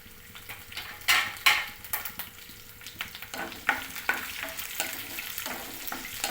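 Garlic and dried red chilies sizzle steadily in oil over medium flame, with a spoon scraping and stirring in a pan at irregular intervals, close and fairly loud.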